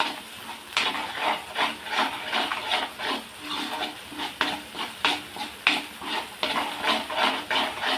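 Egg masala with turmeric sizzles and fries in a pan while a utensil stirs it in steady repeated scrapes, the sounds close and moderately loud with no talking.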